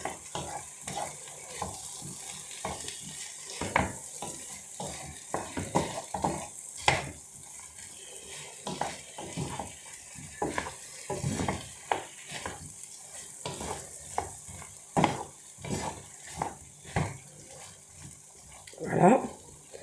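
Potatoes with lardons fry in a pan, giving a soft, steady sizzle broken by scraping stirs at irregular intervals, fairly close and quiet.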